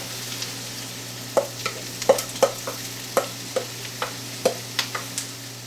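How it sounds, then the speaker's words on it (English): Corn goes into a hot pan of softening vegetables, followed by a series of sharp, evenly spaced scrapes and taps from stirring over a faint sizzle and a steady low hum. "now we can add the corn"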